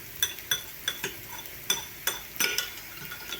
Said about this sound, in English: Then you mix the egg first.